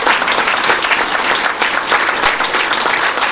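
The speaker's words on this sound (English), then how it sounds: "That deserves an applause right now, I tell you." A school board meeting audience breaks into loud, sustained applause for a state championship girls' military-style team. The clapping is dense and continuous from a full room, with scattered sharper claps standing out.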